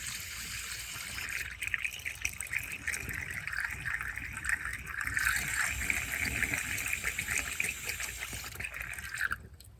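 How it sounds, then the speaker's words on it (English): A garden watering hose fills a plastic tub for a worm grow bed, giving a soft, continuous trickling and splashing at moderate distance, fairly quiet, with no talking. "take my watering hose, and I can just come up in here like so and just fill that up"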